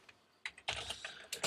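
Quick bursts of keystrokes on a computer keyboard, entered while working in an Excel spreadsheet, heard close and clear with short pauses between clusters of taps and no talking.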